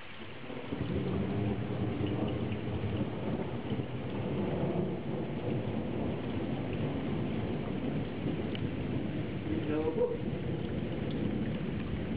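Strong thunderstorm over Żary, with steady heavy rain hissing throughout and low rolling thunder rumbling beneath it, continuous and fairly loud.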